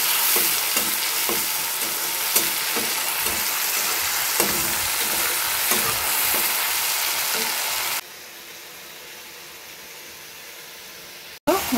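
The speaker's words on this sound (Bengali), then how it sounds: "দেখো পেঁয়াজটা ভাজা ভাজা হয়ে গিয়েছে, এখন মশলাটা দিয়ে দিই।" Onions frying in a pan, ready for spices to be added, give a loud continuous sizzle with frequent stirring scrapes for about eight seconds, then it drops to a quieter hiss before a brief clatter at the end.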